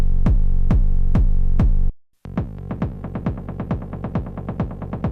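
On an MPC One, a techno rumble bass an octave down pulses in loud, regular low throbs, breaks off briefly into silence, then returns as a denser rhythmic rumble.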